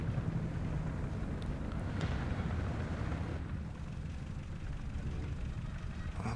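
Armored vehicle engines rumbling in the War Thunder video game, a steady low drone with wind-like noise throughout, no talking over it.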